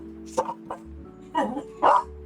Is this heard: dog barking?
yes